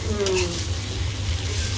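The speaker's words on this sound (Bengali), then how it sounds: "কারকল ভাজি" Bitter gourd (karela) sizzles as it fries in a pan, a steady, close hiss of oil with faint stirring, continuous throughout.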